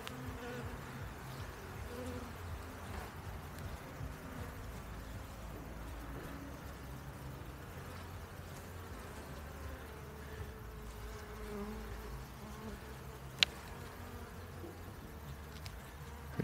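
Honeybees hum in a dense, steady drone around an opened hive during the first spring inspection, with queens being released from cages. The sound is faint and continuous, with one brief sharp click near the end.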